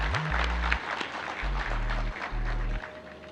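A crowd of farmers claps steadily at a political speech in Punjab, a dense patter of applause running under low, sustained musical tones.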